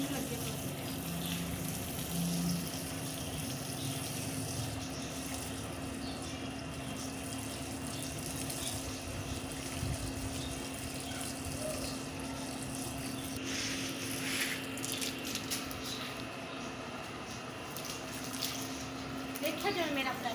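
Water runs steadily from a tap at low pressure during floor cleaning in a Pakistani village home, producing a continuous, moderate hiss over a low background hum.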